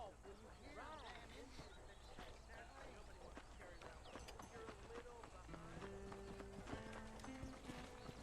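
Rapid clip-clop of horse hooves trotting, with a horse neighing amid a busy soundscape and background music tones in the video game Red Dead Redemption.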